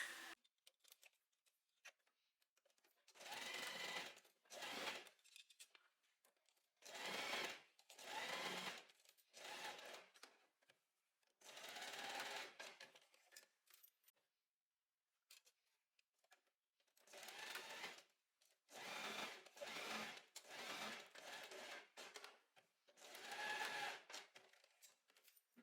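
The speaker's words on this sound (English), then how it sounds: "just lift the foot, make sure the needle is down, and then sew across like this" A sewing machine stitches a strap on a maxi dress in repeated bursts of steady whirring, each lasting a second or two and separated by short silent pauses, close and fairly quiet with no talk.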